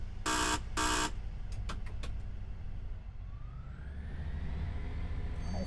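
Two loud door buzzer bursts sound on a Class 158 diesel train in Train Sim World 4, each about half a second, followed by a few short clicks and a low idling engine rumble that carries on to the end.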